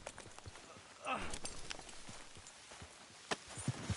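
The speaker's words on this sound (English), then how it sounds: "I'll take his horse" A horse's hooves clip-clop in a Red Dead western video game, a loose, uneven run of sharp hoof strikes at moderate distance, with a brief voice speaking partway through.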